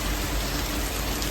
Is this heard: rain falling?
yes